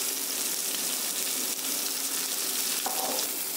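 Chicken pieces frying in oil in a pan for chicken mandi biryani give a steady, loud, hissing sizzle that holds evenly throughout, with no voices.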